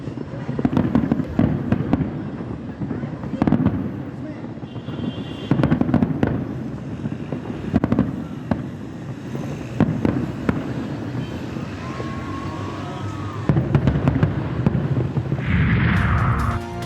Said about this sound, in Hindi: कोयटा के नवाब अकबर बुगटी स्टेडियम और गवर्नर हाउस पेशावर में भी जश्न आज़ादी की मुनासबत से आतिशबाजी का मुजाहरा किया गया।